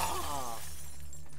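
Glass shattering in the video game The Last of Us Part 2, a loud crash with a ringing tinkle that fades quickly.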